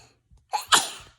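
A single sharp sneeze close by: a short inhaled catch, then a loud bright burst that trails off quickly.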